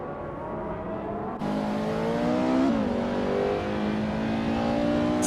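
Race cars, including a 2005 Radical SR, roar off the line at Termas de Rio Hondo in a racing video game, with loud rising engine whine that builds and layers continuously as several cars accelerate together.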